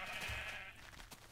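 Sheep bleating in the Minecraft video game: one drawn-out, wavering bleat that fills the first half second, then fades into soft background noise.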